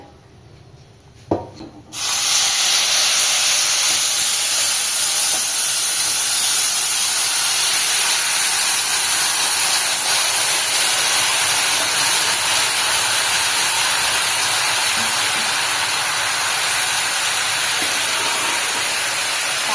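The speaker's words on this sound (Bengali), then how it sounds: "প্রেশার কুকার থেকে" A pressure cooker vents steam while mutton cooks with cumin, dried chili and bay leaf. After a short quiet start it breaks into a loud, steady, unbroken hiss that continues to the end.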